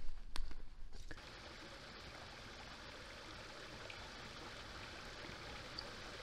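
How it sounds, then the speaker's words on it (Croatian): A swollen mountain stream beside a hiking trail on Ivanščica rushes in a steady, close, broadband wash, with a few brief knocks near the start. "Dosta je nabujali potok, pa moramo tražiti mjesto."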